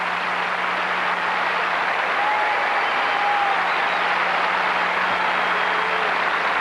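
Tennis crowd at the 1985 Canadian Open semifinal between McEnroe and Connors applauding a point, a steady broad wash of clapping and cheering that fills the whole stretch at even loudness, with a low steady hum beneath.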